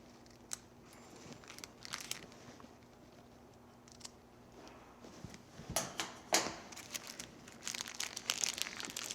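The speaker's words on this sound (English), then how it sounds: "I'm going to flatten my piping bag and I'm going to cut out a small V." A plastic piping bag being flattened and snipped with a small V cut at the tip for piping cupcake leaves, heard as faint, close crinkling and rustling in scattered bursts, louder near the end.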